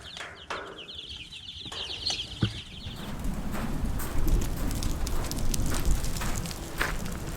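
High chirps from about a hundred young chicks flutter in a quick series early on, then a dense rustling, scratching clamor takes over, steady and fairly close.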